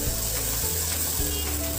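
Onion-tomato puree sautéing in hot oil, a steady close sizzle and crackle that holds without a break and with no voices.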